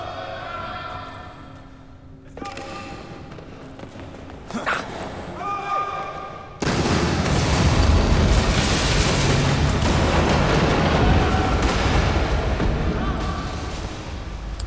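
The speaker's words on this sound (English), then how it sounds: "So they set off that explosion themselves" A large explosion in the video game Assassin's Creed III sets a building ablaze, a sudden loud blast giving way to a dense, roaring rumble of fire and debris after quieter game sounds and brief voices.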